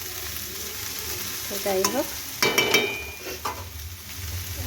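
Raw banana and potato fry in a pan with a soft background sizzle, broken by a few scraping stirs and clinks of a utensil; a voice briefly speaks.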